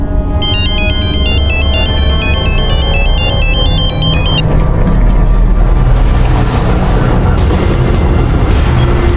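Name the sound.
mobile phone ringtone, unanswered call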